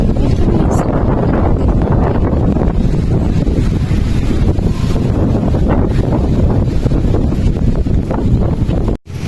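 Strong wind roars and buffets the microphone in heavy, continuous gusts, with a sharp drop-out just before the end.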